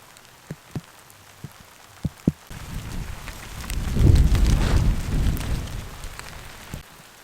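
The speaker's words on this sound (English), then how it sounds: "in the background we hear some thunder coming because it's gonna rain" A few sharp drips tap at first, then a low rumble of thunder swells and rolls through the middle before fading, with rain noise underneath.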